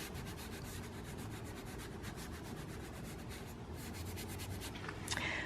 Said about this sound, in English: I'll rub it in so it's not so abrupt and so bright.